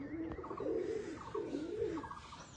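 Pigeons coo near a loft in repeated throaty, warbling phrases, about two calls in quick succession, moderately close and alone without talk.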